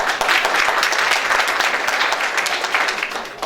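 Dense audience applause fills a live stage show in Quebec, steady and loud throughout with no talk over it.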